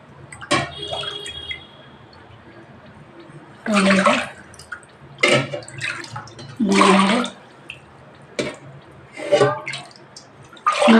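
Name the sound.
water being poured into a pot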